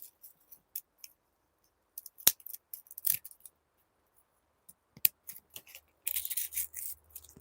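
Scissors snip the leaves and roots of harvested hardneck garlic in a string of crisp, close cuts, spaced irregularly with quiet gaps, ending in a denser cluster of rustling snips.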